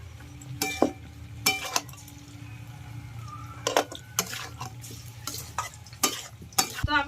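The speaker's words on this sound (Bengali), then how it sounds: "এবার ডিম আর আলুগুলো দিয়ে দিচ্ছি।" Eggs and potatoes frying in a pan, with soft steady sizzle beneath repeated sharp scraping and clinking strokes of a spatula stirring against the metal, close and fairly loud, no talk.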